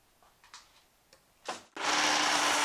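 Wood being cut with a power saw on an angle cutting jig while building a skoolie dashboard: a few faint taps and clamp handling, then the saw bursts in loud and steady, close by, with no voices.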